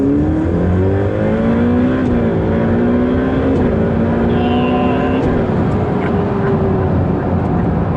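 Ferrari 488 Pista engine accelerating hard on a racetrack, a loud, continuous interior roar whose pitch climbs steadily through the gears with brief dips at each shift, close and unbroken throughout.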